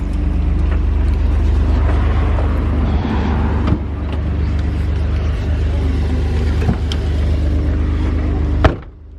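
A JDM MK4 Toyota Supra with a single turbo setup runs steadily throughout, a deep continuous engine drone with a slight bump in level near the end before cutting off abruptly.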